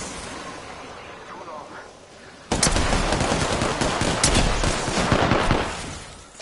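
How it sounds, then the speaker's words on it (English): Rapid automatic gunfire from a video game shooter bursts in loudly after a quieter stretch, sustained bursts with sharp individual shots continuing to the end. "They're shooting at me"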